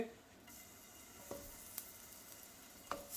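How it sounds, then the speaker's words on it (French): Eggplant slices fry in a little olive oil, a steady soft sizzle with occasional stirring clicks and pops close by. "on va juste griller nos aubergines"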